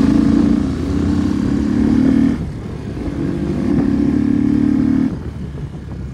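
A V2 motorcycle fitted with a K&N air filter runs nearby with a loud, steady engine drone. It dips briefly, rises again, then drops once more, as if the throttle eases off between pulls.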